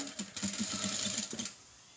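A sewing machine stitching a quarter-inch margin along the presser foot, a brief quiet burst of rapid rhythmic needle clatter lasting about a second and a half before fading.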